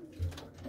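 Gutku pigeons, an old breed kept in a loft, give a single brief low coo over a soft steady background.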